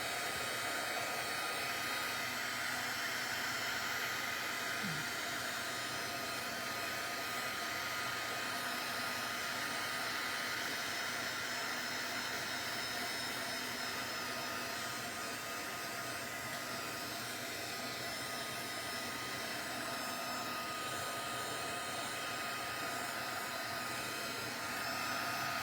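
A heat tool blows hot air onto ink to dry it, making a loud, steady rushing whoosh that runs unbroken for the whole stretch, with no one speaking.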